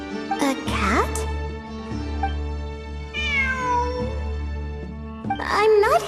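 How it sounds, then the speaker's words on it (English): A cat meows several times, close and clear, with rising and falling cries near the start, middle and end, over a droning game soundtrack with brief voices. "It really is a cat."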